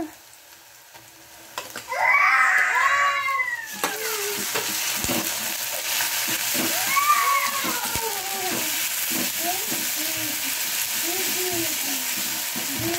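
Onions and ginger-garlic paste fry for a fish curry with a steady sizzle that starts loud and settles into a constant hiss. Stirring clinks and scrapes recur throughout, close by, and a voice chirps faintly in the background.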